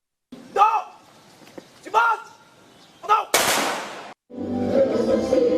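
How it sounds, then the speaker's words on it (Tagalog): A few sharp, echoing gun blasts spaced about a second apart, then a longer burst of noise fading into a low hum, fired at a Philippine Independence Day ceremony. "Umalingaw-ngaw ang putok"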